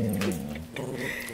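A dog whimpers and growls in a low, rumbling, strained voice at close range, a short continuous burst with no talk.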